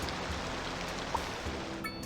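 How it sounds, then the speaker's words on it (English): Steady rain falls in the city-building game Cities Skylines 2, a continuous even hiss that fills the whole stretch at moderate level, with no voices. "It's raining. Of course it is."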